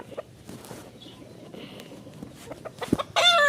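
White Texas-breed chickens scuffle and fight nearby, giving scattered clucks and rustles that build to a loud, harsh squawking burst at the end.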